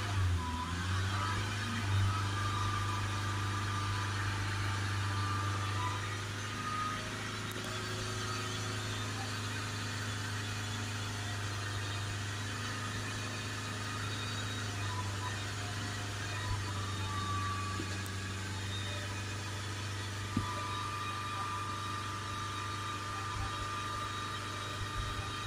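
Land Rover Discovery Sport 2.0 diesel engine held at a steady raised speed around 3,000 RPM, producing a continuous, even drone with a constant low hum and broadband noise throughout, no speech.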